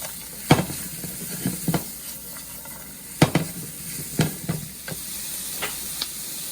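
Shrimp, red and green pepper, carrot and cabbage frying in a pan under a soft steady sizzle, with scattered clinks and scrapes of a utensil stirring at irregular intervals.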